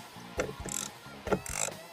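A ratchet wrench removing bolts from a boat under construction gives two quick bursts of rapid clicking with a short pause between them, close and clear, with no talk.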